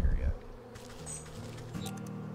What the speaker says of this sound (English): There's no shortage of bees